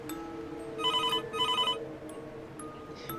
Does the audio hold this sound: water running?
no